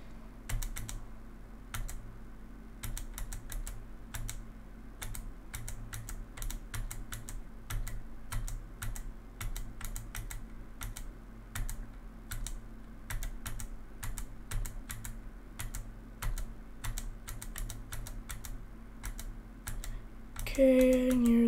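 Computer keyboard arrow keys are tapped in a steady run of quick, light clicks during a video game, close and fairly quiet, with no talk over them.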